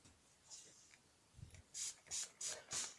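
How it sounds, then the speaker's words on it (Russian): A handheld sprayer mists a salicylic acid solution diluted half and half with water onto a houseplant, giving four short, close hissing bursts in quick succession after a brief faint rustle. "Вот так как следует сбрызгиваем, опрыскиваем все закоулочки как следует."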